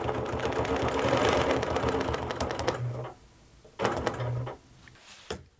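A sewing machine runs steadily through quilt layers along the edge of green fabric guided by a quilting ruler, stitching a quarter-inch line in a long close burst, then pausing and starting again in shorter runs with light handling clicks.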